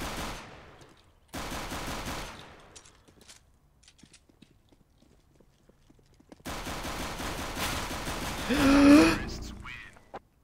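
Gunfire in the video game CS:GO, two long bursts of rapid automatic fire separated by a near-silent gap, the second burst louder and ending in a sharp peak.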